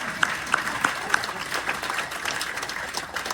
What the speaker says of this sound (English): that's where you guys clap for me